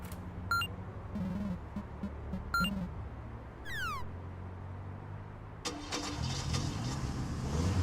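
A cab's car engine in the game Therapist starts up midway and keeps running as a steady low rumble. Before it, short electronic beeps and chimes sound over a quiet background.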